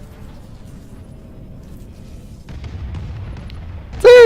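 Explosions and gunfire strike the player's ship in a space flight video game, a low rumbling barrage building after a quiet stretch and ending in a sudden loud burst.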